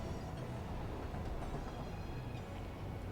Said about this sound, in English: Oh, if only I could jump on this train.